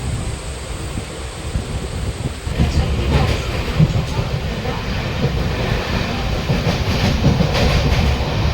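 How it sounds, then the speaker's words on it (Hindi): A train rolls in at a railway station with a steady low rumble and faint clickety-clack of wheels, building slightly louder midway and continuing without a break. "ट्रेन हमारी आने वाली है बस"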